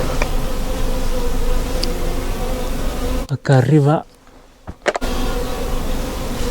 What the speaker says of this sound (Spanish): Hay bastante abejas ahí volando.